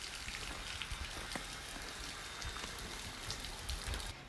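Rain falls steadily in a boatyard near boats ashore, a dense, even patter of drops striking surfaces close by, with no voices.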